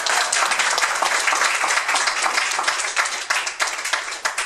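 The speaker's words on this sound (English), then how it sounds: "Give him a big round of applause." A public-speaking club audience in Singapore gives a steady, full round of applause for a speaker, dense and even from start to finish with no talking over it.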